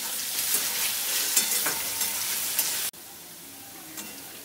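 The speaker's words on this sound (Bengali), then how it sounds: "এখন আলুটাকে হালকা করে একটু ভেজে নিচ্ছি।" Potato pieces seasoned with turmeric and salt sizzle in hot oil in a pan, a bright crackling hiss with stirring scrapes, loud at first, then dropping abruptly to a softer sizzle partway through.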